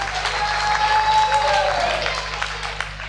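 An audience at a mushaira claps to welcome a poet, a dense, sustained round of applause in a hall, fairly loud and steady with a faint hum underneath.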